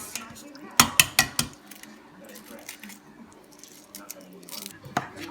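Boiled eggs being peeled for a potato salad, a burst of sharp clicks and taps on a plate or bowl followed by quieter crackling handling, with a voice talking over parts of it.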